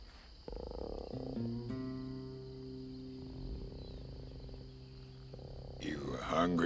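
A frog croaks among swampy, wild-sounding animal calls in an animated Disney story, with sustained low tones and bursts layered over one another and a louder, harsher burst near the end.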